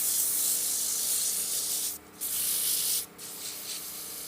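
Sandpaper of 120 grit rubs against a wooden duck call spinning on a lathe, a steady loud hiss broken by two short pauses as the paper lifts away.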